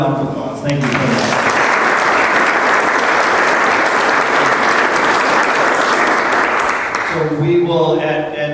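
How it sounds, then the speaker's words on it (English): At an annual meeting, an audience bursts into sustained applause lasting about six seconds. A voice speaks just before and after the clapping. "Just another round of applause."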